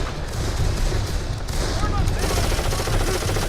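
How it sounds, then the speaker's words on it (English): A machine gun in the video game Darkest of Days fires in rapid sustained bursts into a board, loud dense clatter with booming impacts, while someone talks over it. "enjoy the shooting into a board"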